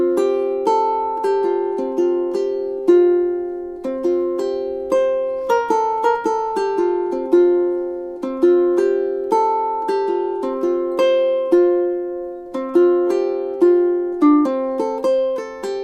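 Plucked ukulele melody over acoustic guitar in a duet, a clean, bright tune of crisp notes decaying between attacks, played alone with no talking.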